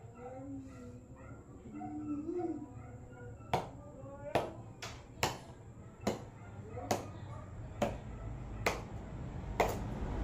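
A bolo hacks into a young buko coconut with about nine sharp, close chops at a fairly steady pace, following a few seconds of a voice talking.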